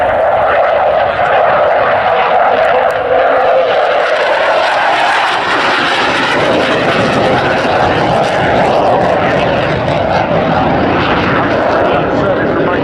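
A Cold War-era military jet performs a flying display at RAF Waddington, its engine roar loud and sustained, shifting in pitch as it turns overhead, while a commentator talks over the public address.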